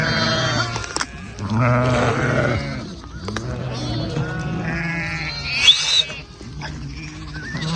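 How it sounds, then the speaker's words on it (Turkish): Sheep bleating repeatedly and loudly near the microphone on a farm, several wavering cries in a row while a person talks between them. "Koyunlar bak oradan yemeğe gidiyor bak."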